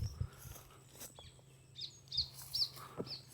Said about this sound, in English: Lots of bird life here too, which I like.